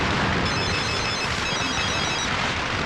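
A telephone rings loudly and continuously through the whole stretch, a steady, unbroken electronic ring with no voices over it.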